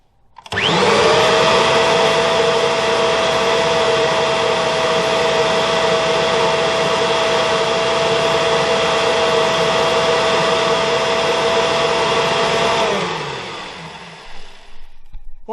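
A Kirby G3 American Classic vacuum cleaner runs with its brush roll on, starting with a loud rising whine, holding a steady roaring hum for about twelve seconds, then winding down.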